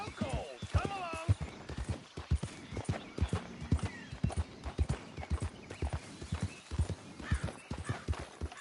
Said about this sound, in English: we don't need that horse tapping all over the place